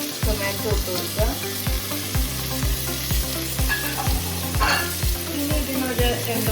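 Chopped tomato sautéing in a frying pan for a chapati egg scramble, a steady close sizzle broken by rhythmic scraping strokes of a spatula about every half second, with no talk.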